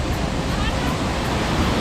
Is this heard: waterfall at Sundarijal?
yes